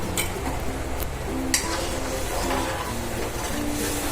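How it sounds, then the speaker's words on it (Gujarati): A spoon scrapes and stirs red chili powder and garam masala in a pot of dhokli vegetable curry over a low sizzling hiss, with a few sharp metallic clinks. "પછી ચલાવી લઈશું."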